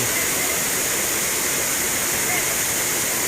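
A waterfall in the Malad forest area near Appapada pours steadily, a loud, continuous broadband rush of falling water filling the space close by without letup.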